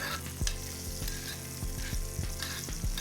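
Black cod fillet searing in butter in a pan, a steady close sizzle and crackle of frying with small pops and spatters throughout, no voices.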